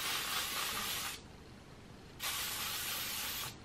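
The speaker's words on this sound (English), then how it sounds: "And then I'm going to spray my hair with some of the heat protectant hairspray." Heat protectant hairspray sprayed onto hair from an aerosol can: two steady hissing bursts of about a second each, separated by a short pause, close to the microphone with no talking.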